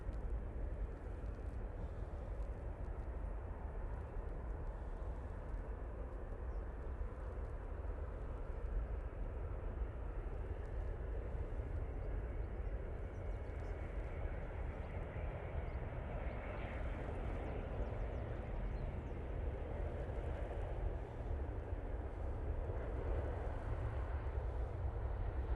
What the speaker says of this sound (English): Etihad 777 going back to Abu Dhabi